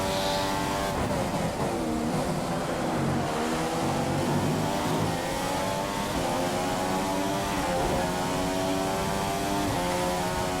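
F1 car engines scream steadily through a lap of Australia in the game F1 2015, loud and continuous, with pitch rising and falling through gear shifts and other cars audible, no talking.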